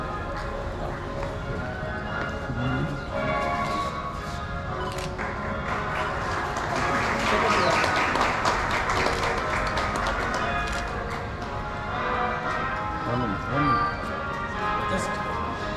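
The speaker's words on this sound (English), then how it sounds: "You can now clap a bit." An audience at a school investiture ceremony claps amid a noisy hall, the scattered tapping merging with crowd murmur and other activity at a steady level throughout.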